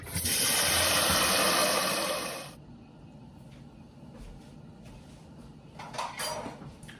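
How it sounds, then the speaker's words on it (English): Water gushes loudly into a pot of rice for about two seconds, then stops. Quieter clinks and knocks of the pot being handled follow. "We're rinsing the rice, washing the rice."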